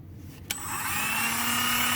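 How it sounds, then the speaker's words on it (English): A Dremel rotary tool with a cutting wheel spins up after a short click, settling into a steady high-pitched whine with a faint rising tone, close and loud, with no one speaking. "it's Dremel wheel time."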